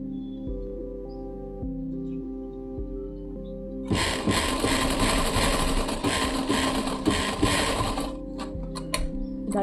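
A sewing machine stitches a pocket onto a kids' jeans pant, starting after a few seconds of quiet mechanical hum as a fast, loud, steady whirring rattle that runs for about four seconds, then stops with a few short bursts.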